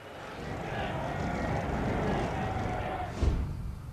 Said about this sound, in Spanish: 2 Boeing 707 despegan juntos del aeropuerto de Teherán.